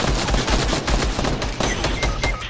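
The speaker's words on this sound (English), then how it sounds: "I'm being shot on my left and fucking right" Rapid gunfire in a Fortnite match, a loud, dense stream of overlapping shots and bursts from several weapons at close range, continuing without pause.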